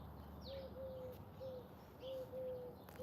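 An owl calls outdoors in the morning, giving a few soft, hollow hoots at a moderate distance, spaced irregularly over a quiet background hum.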